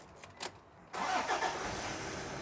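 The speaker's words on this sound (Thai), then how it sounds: "เดี๋ยวผมสตาร์ทรถให้ฟังนะครับ" A 4x4 seven-seat family car engine cranks and catches, jumping from faint clicks into a steady, rumbling idle that continues at a moderate distance.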